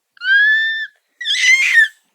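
A young child gives two loud, high-pitched screams, the first a clean sustained shriek and the second rougher and raspier, separated by a short silence.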